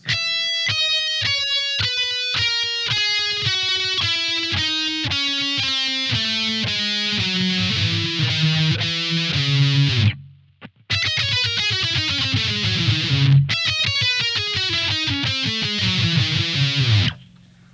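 Slow distorted electric guitar riff from a song's intro, notes picked one after another and ringing out, with a short gap near the end before the final phrase.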